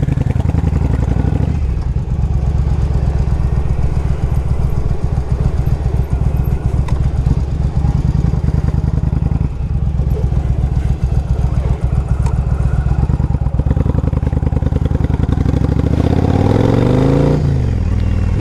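A 2005 Yamaha V Star 1100 cruiser with about 21,000 miles is ridden; its engine drones loud and steady throughout with wind rush, then revs climb and shift near the end.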